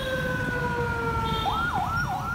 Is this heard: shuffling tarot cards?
no